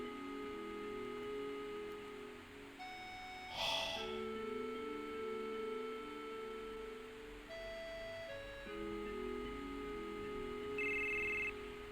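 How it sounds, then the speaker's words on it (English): A phone rings in the Final Fantasy VII video game, a repeating electronic tone in steady bursts over a quiet, sustained game music backdrop, with no talking. "I'm getting a phone call."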